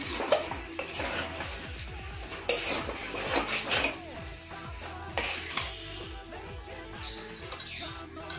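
Banana flower curry being stirred in a pan, the spoon scraping and clinking against the metal in a steady rhythm with a soft sizzle underneath, close and fairly loud, with no talking.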